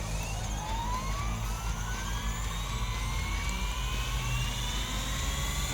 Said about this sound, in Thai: ใบพัดหมุนสุดเสียงแล้วก็เร่งขึ้นไปนะครับ